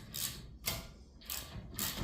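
A garage door torsion spring is tightened during a broken-spring repair, giving a series of four ratcheting mechanical clicks and scrapes at a steady pace, fairly quiet and close.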